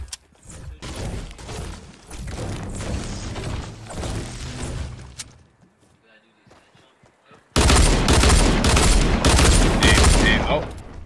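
Rapid gunfire in Fortnite, with loud dense bursts of shots and clicking weapon mechanisms in two stretches split by a brief quiet gap, close and heavy, with some speech mixed in.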